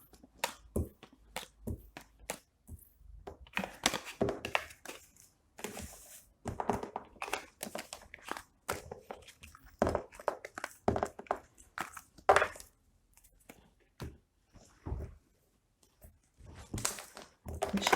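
Tarot cards being gathered up and handled at close range, with a quick run of soft taps, flicks and papery rustles in irregular bursts, no talking.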